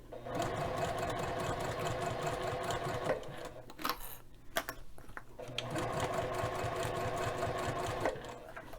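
A sewing machine back-stitches a bag, running steadily near and loud with a rapid needle rhythm, pausing briefly in the middle before resuming at an even pace.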